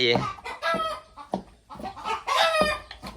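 A chicken clucks and cackles loudly and close by in a series of repeated calls, with some voices faintly in the background.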